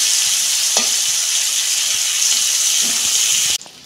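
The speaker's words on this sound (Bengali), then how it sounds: "তেল গরম হয়ে গেছে, আমি ভেজে নিচ্ছি।" Bitter gourd fries in hot oil with a loud, close, steady sizzle and a couple of faint stirring knocks before it cuts off abruptly near the end.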